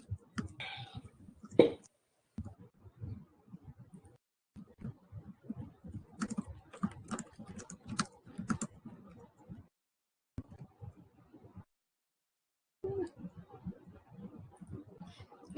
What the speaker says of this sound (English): I'm like typing the full answers into it